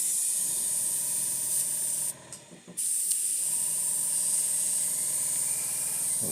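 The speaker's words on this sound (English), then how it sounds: "Of course the airbrush is not good." An airbrush sprays paint onto a Warhammer Roboute Guilliman miniature, giving a steady, close, bright hiss that stops briefly about two seconds in and then carries on unbroken.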